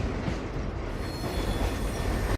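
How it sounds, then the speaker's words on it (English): A train rolls along the rails with a steady, dense rumble and faint metallic squeal, heard from inside and continuous throughout. "the train was on its way"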